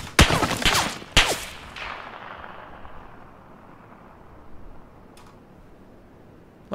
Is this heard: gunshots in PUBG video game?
yes